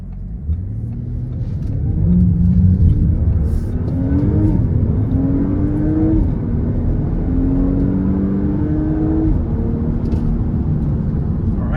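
A 2025 Audi S5 accelerates hard, its engine note climbing steadily in pitch through successive gear pulls, loud and close from inside the car.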